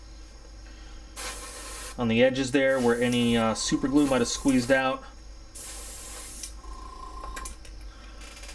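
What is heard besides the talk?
spraying a model tank's tracks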